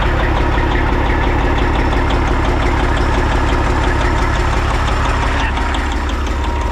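A Kenworth cabover truck engine idles up close during restoration work on its ECM, a steady, loud, low mechanical chug with an even rhythm throughout.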